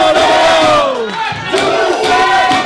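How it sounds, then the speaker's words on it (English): A crowd at a beginners' performance cheers and shouts loudly, voices swelling and falling in dense overlapping waves close to the listener. "applause."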